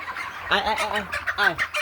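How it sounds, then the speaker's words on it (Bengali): A few chickens clucking up close in short bursts, a couple of louder squawking calls among them, no talking. "এই যে আমার মুরগিগুলো তোমাদেরকে দেখাই"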